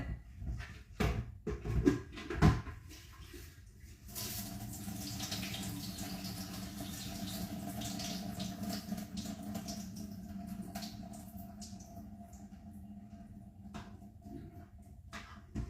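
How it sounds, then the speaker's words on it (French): Cold tap water runs steadily into a container to rinse rice, a close, even rushing flow following a few brief knocks and clatters at the start. "je rince mon riz et je vais mettre 3 doses d'eau"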